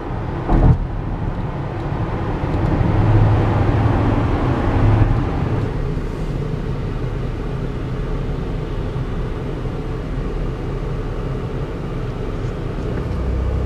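Road traffic near the Gateway Arch in St. Louis, a continuous broad rumble of passing cars and vehicles with a sharp knock near the start, moderately loud and unbroken, without talk.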